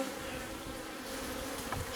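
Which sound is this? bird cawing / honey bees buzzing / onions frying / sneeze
honey bees buzzing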